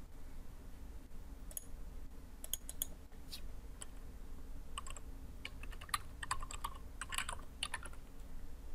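Quiet clicking of a computer keyboard being typed on in bursts of irregular keystrokes over a low steady hum, with no talking.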